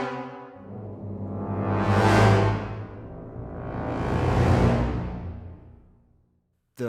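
Orchestral short swells without marcato from the BBO Black Eye sample library: two broad, rich swells that each rise to a loud peak and fade, followed by a brief pause and a sudden cut-in at the end.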